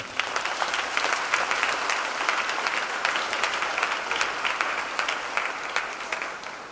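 A church congregation applauds steadily, a dense, sustained wash of clapping hands that stays loud and even throughout before easing slightly at the end.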